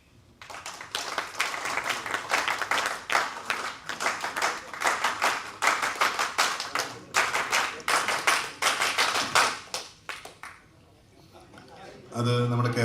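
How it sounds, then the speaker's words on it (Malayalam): The Kerala Strikers celebrity cricket team clap together in a new rhythmic pattern, loud sharp bursts in quick groups, followed by a pause and voices. "അത് നമ്മുടെ കേരള സ്ട്രൈക്കേഴ്സിൻ്റെ ഒരു പുതിയ മോഡൽ ക്ലാപ്പ് പാറ്റേൺ ആണ്"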